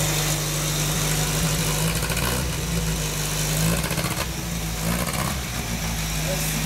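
A mechanical engine runs steadily at idle with a low, even rumble and vibration, fairly close and continuous throughout, while people talk over it.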